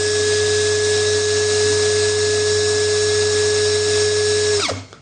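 Corolla 16V brushless cordless drill driver spinning at its low speed setting, a steady high whine with a constant tone that winds down at the very end, close and alone.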